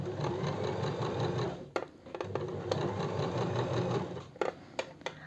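A sewing machine runs a straight seam on a cocktail dress, humming steadily at close range before stopping, then running again in short bursts separated by mechanical clicks and pauses.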